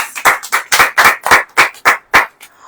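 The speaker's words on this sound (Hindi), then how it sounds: "ताली नहीं देंगे?" Loud rhythmic hand clapping at a Christian sermon gathering: about nine sharp, evenly spaced claps in a steady beat, close and clear with no talking over them.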